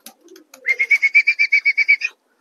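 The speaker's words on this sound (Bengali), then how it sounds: "এক এক করে সব রেসার পায়রাগুলো উড়ে উড়ে" A racing pigeon calls nearby, a quick run of about a dozen short, evenly spaced notes after a few soft sounds, then silence.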